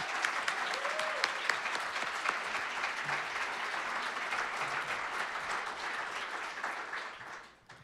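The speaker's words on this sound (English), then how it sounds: "please give Emma and Will another round of applause" An audience at a Dr. Martin Luther King Jr. celebration applauds, steady dense clapping from a sizable crowd that holds evenly for several seconds before fading out at the end.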